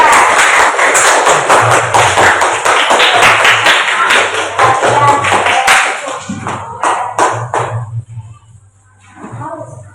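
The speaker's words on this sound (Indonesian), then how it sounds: "sekarang kita beri tepuk tangan untuk teman-teman" Classmates in an Indonesian lesson clap loudly in a dense burst of applause for about six seconds, then it thins to scattered claps and fades, with a low steady hum underneath.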